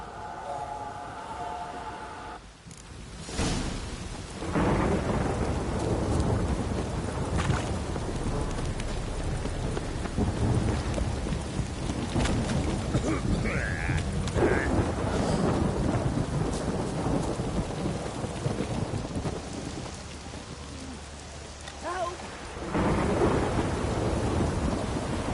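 Heavy rain pours steadily in The Witcher 3: Wild Hunt while thunder rumbles and cracks loudly several times, the storm close and constant.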